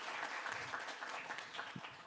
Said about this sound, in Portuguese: a Cristina Figueiredo, palmas para ela, maravilhosa idealizadora